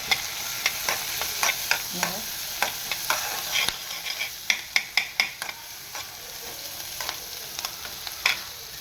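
Diced onion frying in a pan for pizza topping, with irregular scraping and stirring clacks of a spoon against the pan over a quiet, low sizzle, close and fairly soft, no talking.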